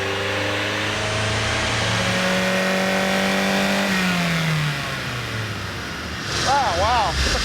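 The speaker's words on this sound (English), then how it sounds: "the first time I've ever been in a chassis dyno session with a Miata" A Mazda Miata on a chassis dyno revs hard, its engine note climbing steadily under load, then drops back. A short whistling whoop and people's voices follow.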